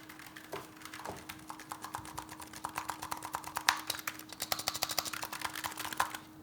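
Steady, rapid typing on a Razer Huntsman Mini low-profile mechanical keyboard, crisp clicky keystrokes in a continuous close stream with no talking.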